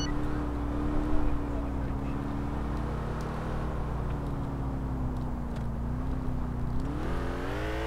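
Steady engine drone of a car cruising in Grand Theft Auto IV with the LCPDFR mod, a low sustained hum that rises slightly in pitch near the end, with a voice talking over it.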